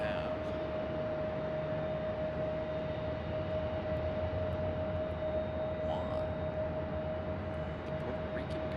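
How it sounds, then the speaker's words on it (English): An Embraer regional jet departs Raleigh-Durham International Airport, its engines a steady, distant broadband roar with a sustained tonal whine running throughout. "Got another Embraer departure, also the CRJ"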